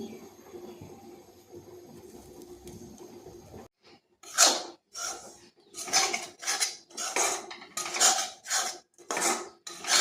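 Dhokar dalna curry with turmeric and salt stirred in a pan: after a quiet stretch, a rapid series of sharp scraping and clattering strokes of utensil against the pan, close and fairly loud.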